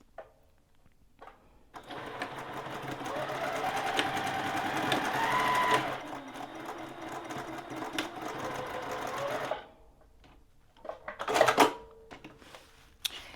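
A sewing machine stitches ruffle anklets, running back and forth in a fast, close mechanical whir that lasts several seconds, then pauses and gives a couple of short bursts after a few handling clicks.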